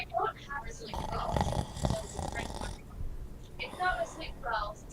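A voice imitates snoring coming from inside a well-repaired building during a Dungeons and Dragons game session, with rough, rasping breaths repeating at moderate volume and talk woven among them.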